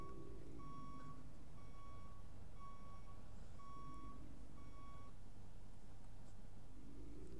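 Steady reversing beeper from a truck in a driving simulation game, a run of evenly spaced electronic beeps at a constant pitch over a low engine rumble, fairly close and clear, stopping before the end.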